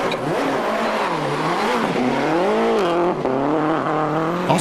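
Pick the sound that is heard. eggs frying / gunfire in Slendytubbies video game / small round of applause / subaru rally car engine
subaru rally car engine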